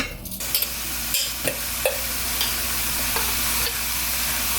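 Chicken sizzles loudly in a hot ceramic-coated pot, a steady crackling hiss close up, punctuated by a few sharp scrapes and taps of a utensil.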